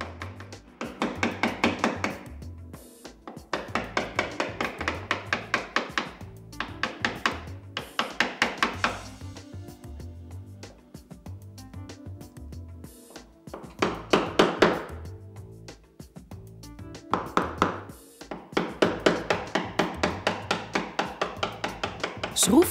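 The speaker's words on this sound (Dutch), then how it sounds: "Hak ze daarna beide met hamer en beitel op diepte uit." Hammer and chisel cut hinge recesses into a wooden door frame, with repeated rhythmic taps in long runs broken by brief pauses, close and moderately loud.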